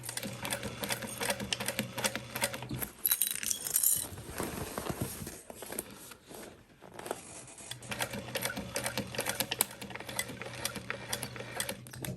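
A sewing machine stitches a convertible backpack in fast, steady mechanical runs, stopping briefly in the middle before starting again, close and alone with no talk.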